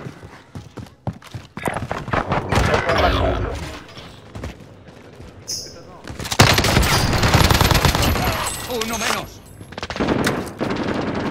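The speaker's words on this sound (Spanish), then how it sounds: "Ametralladora ligera." Bursts of light machine gun fire in a Call of Duty Warzone match, rapid rattling volleys that come and go between quieter gaps, loud and close, with a voice talking over parts of it.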